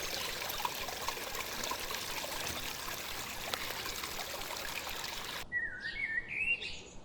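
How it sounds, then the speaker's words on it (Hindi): Water of a flowing stream trickles steadily as a broad wash, and a few brief bird chirps break through near the end, with no talk. "धारा का मधुर संगीत हमेशा वहां मौजूद रहता था, शांत, स्थिर और आश्वस्त करने वाला।"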